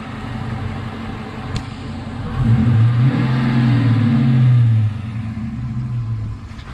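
Dodge Challenger R/T with a Mopar Hemi V8 idling loud and close, then rising into a strong rev for about two seconds before settling back to a deep rumbling idle.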